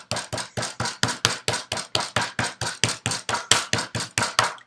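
Wet clay slab being pounded by hand for a slab pot, a steady run of about twenty close, dull thumps at an even, quick rhythm with no talking.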